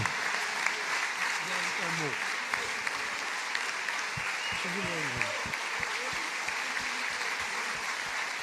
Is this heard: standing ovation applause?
yes